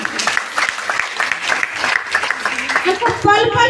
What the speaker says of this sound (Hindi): आज हमारे ग्रुप में कविता दीदी के लिए जबरदस्त ताली होनी चाहिए